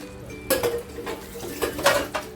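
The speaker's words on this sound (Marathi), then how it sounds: "आणि फक्त हे हलक्या हाताने ढवळून घेते म्हणजे मसाला सगळीकडे लागेल" A spoon gently stirs spicy barfish (karli) masala with spinach in a pan, giving a few soft scraping clinks and knocks against the metal over a quiet background.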